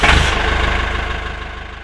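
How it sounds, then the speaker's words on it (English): Steady low engine drone from inside a tractor cab, loud and close with a constant rumble and no talking. "Or we could have a tractor cab noise."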